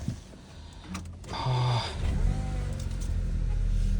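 A Volkswagen Passat Alltrack B7 engine cranks briefly and catches, then settles into a steady low idle hum close by, with no talking.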